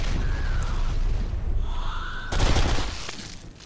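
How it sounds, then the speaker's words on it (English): Small bombs detonate in the shooter game BlackSite, a quieter stretch of game noise and then a sharp, loud burst of explosions and crackling gunfire that fades out. "Oh, it's the little bombs."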